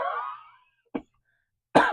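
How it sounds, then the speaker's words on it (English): A person coughs twice close by, a short single cough followed about a second later by a longer, harsher one, just after a fading bit of voice. "Excuse me, I'm going to cough"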